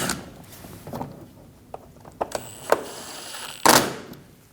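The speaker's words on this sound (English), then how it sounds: "Install the screws up through the bumper." Screws on a 2012-2022 Volkswagen Passat front bumper cover being driven up through the bumper, with a few sharp clicks and ratcheting taps close by and a louder clunk near the end.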